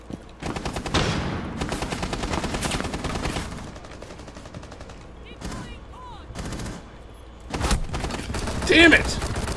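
Automatic gunfire in the Rainbow Six Siege video game: repeated bursts and rapid volleys, loud and close, with a player talking over parts of it.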